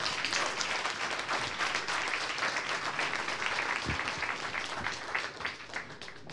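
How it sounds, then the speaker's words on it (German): Audience applause after a short talk: a continuous patter of many hands clapping at fairly close range, even in intensity with a few louder claps, lasting throughout. "das hat einen Applaus verdient schon mal"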